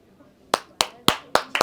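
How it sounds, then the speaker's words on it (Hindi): Clapping from a small crowd of first-time voters at an election results gathering: five sharp, separate claps in a loose, quickening rhythm, close and fairly loud, with a voice heard around them. "एक ताली बनती"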